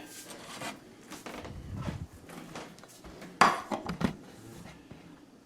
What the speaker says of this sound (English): Cover the pot, save the heat.